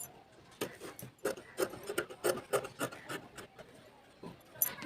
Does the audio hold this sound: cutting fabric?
yes